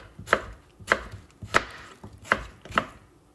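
A knife chops small apples on a cutting board for homemade apple vinegar, five crisp, evenly spaced chops heard up close with no talking.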